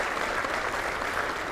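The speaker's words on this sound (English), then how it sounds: "So please, round of applause for the presenting partners that made this possible." An audience at the 2021 One Utah Summit main stage applauds with a steady, dense patter of clapping, moderately loud and unbroken, with no talk over it.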